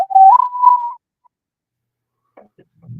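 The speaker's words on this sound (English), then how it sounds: "I want to hear you whistling to yourself" A short whistled tune, one clear rising then steady note lasting about a second, followed by silence and a couple of faint soft sounds.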